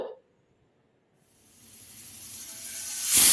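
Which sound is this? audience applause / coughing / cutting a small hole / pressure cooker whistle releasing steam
pressure cooker whistle releasing steam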